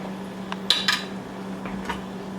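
Grilled shrimp slid off a skewer and cut into bite-size pieces, a few light metallic clinks and taps of utensil on a plate over a steady low hum, no talk.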